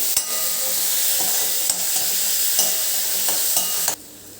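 Chopped onion, one large onion cut in a chopper, sautés in a pan, giving a steady loud sizzle with stirring scrapes that stops abruptly near the end.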